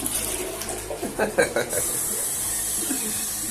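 A household toilet in a messy room flushes with a burst of gurgling, rushing water that settles into a steady hiss as the tank refills, fairly close.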